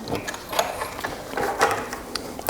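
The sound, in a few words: sewing machine stitching forward and backward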